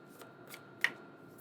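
A deck of cards is shuffled quietly close by, making a few soft, brief riffling flutters and one sharper snap, with no talk.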